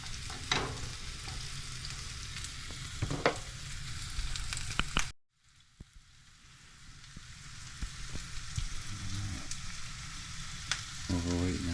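Food frying hot on an RV stove, a crackling sizzle with spatula knocks that cuts out abruptly, then returns softer and builds again with scattered clinks.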